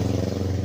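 A car air-conditioning blower motor, unbalanced by thick dirt built up on its blower blade, gives a steady low hum with a faint rhythmic wobble, continuous and fairly close throughout.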